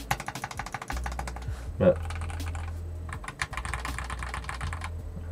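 Fast, crisp typing on a Royal Kludge F68 keyboard with red low-profile switches, the keystrokes clicking in rapid bursts close by while a person talks briefly.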